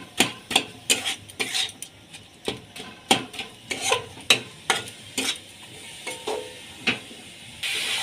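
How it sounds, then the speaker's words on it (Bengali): A spatula stirs jaggery into grated coconut in a pan while making patishapta filling, giving close, steady rhythmic scraping and clinking strokes about twice a second, with a faint sizzle beneath and no talking. "এবার গুড়টা নারকেলের মধ্যে ভালো করে মিশিয়ে নিতে হবে।"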